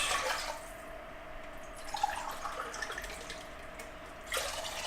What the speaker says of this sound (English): I'm just going to put our water in first